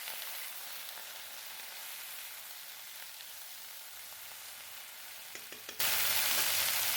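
Okra frying in an uncovered pan, a steady soft sizzle at low level that turns suddenly louder and brighter near the end.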